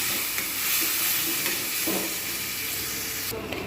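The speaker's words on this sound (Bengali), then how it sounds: "আমি এতে একটু জল দিয়ে দেবো যাতে তলায় না মশলাটা পুড়ে যায় একটু নাড়িয়ে নিলাম" Masala paste with turmeric and roasted coriander-cumin powder, thinned with a little water, is stirred in a pan for egg kalia. A steady close hiss and sizzle carry a few soft scraping strokes, with no talking.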